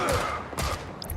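Gunfire in the mobile game Gangstar Mirage City, a few muffled overlapping shots under dense game noise and background chatter, fairly faint and blurred together.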